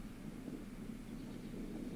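Steady low rumbling wind noise on a street buffets the microphone throughout, a constant dull roar with no voices.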